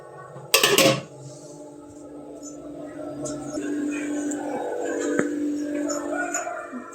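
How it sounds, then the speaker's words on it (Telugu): Pots and dishes scrubbed and washed by hand at home, with a sharp metallic clatter near the start followed by steady scraping and rinsing sounds, fairly close. "గిన్నెలు తోముకుంటాను నేను."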